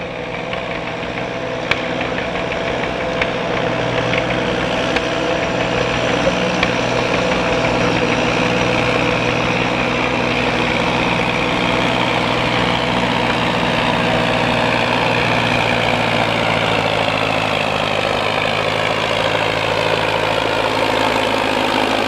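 A Farmall Super M tractor engine runs at an outdoor truck and tractor pull in Melbourne, Ontario. A steady, loud, low rumbling idle continues without pause, its throbbing drone heavy and close the whole time.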